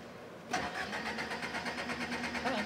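A 1962 Amphicar engine cranks and catches, settling into a steady, close mid-pitched running idle with a slight rise at the end; brief speech around it.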